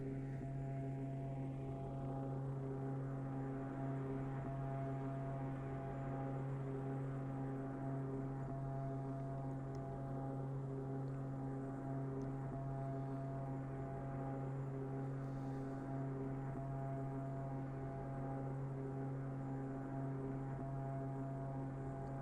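A steady, droning propeller engine of an Embraer EMB-110P1 Bandeirante in Microsoft Flight Simulator hums at a constant pitch, smooth and unbroken throughout, with no speech.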